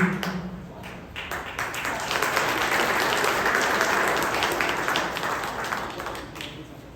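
An audience applauds steadily at a commemoration event for Rosedale, with dense, sustained clapping that swells in the middle and holds for several seconds without speech.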